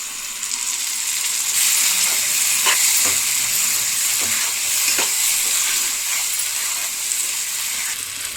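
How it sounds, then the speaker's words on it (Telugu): Fried mushroom pieces added to a masala curry in a pan, giving a loud, continuous sizzle with a few brief scraping stirs and clinks throughout. "ఫ్రై చేసుకున్న మష్రూమ్ పీసెస్"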